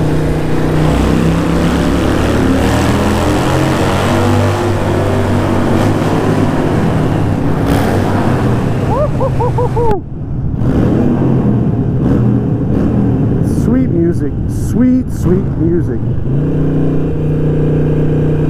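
Harley-Davidson Sportster motorcycle ridden through a tunnel on the Colonial Parkway, its loud, close V-twin rumble droning steadily, with a few rising revs and echoing throttle blips near the end.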